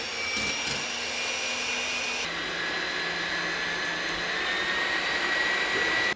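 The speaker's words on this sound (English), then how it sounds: "Go ahead and start mixing them with the mixer." An electric mixer whirs steadily and close by while whipping egg whites for a birthday cake, its motor dropping to a lower pitch partway through and then droning on evenly until it cuts off, with no talking.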